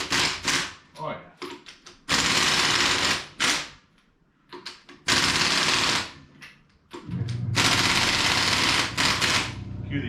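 An Ingersoll Rand air impact wrench hammers at rusted lug nuts on a 1997 Jeep Wrangler TJ, loud rapid rattling bursts separated by pauses, with a long final sustained run and a voice heard between bursts.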